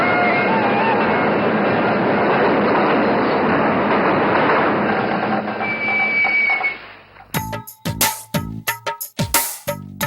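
A train pulls into a station and comes to a stop, its steady broadband rumble running loud for about seven seconds before cutting off, after which people talk.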